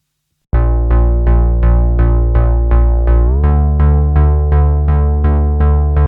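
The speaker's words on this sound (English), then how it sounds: "8 notes, just the root note" A deep synth bass pulses steadily on repeated root notes, eight even throbs per bar, loud and alone, shifting down to a new note partway through.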